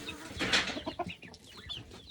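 Backyard chickens kept with ducks cluck busily at feeding time, a cluster of close, uneven clucks and chatter from several hens, moderately quiet and without voices.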